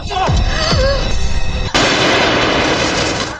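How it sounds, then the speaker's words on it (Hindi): A gunshot in a movie scene during a deadly game: a sharp crack followed by a long ringing decay, after tense dramatic sounds and swooshes. "आखिरकार एक गोली चली।"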